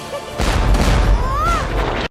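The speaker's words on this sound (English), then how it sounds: "It now sounds like something being fired out of a tube rather than a small cannon." A weapon sound effect from the RWBY animated series, Nora's weapon firing: a hollow, punchy tube-launch thump followed by a sustained rushing whoosh with a brief rising whistle, loud and close.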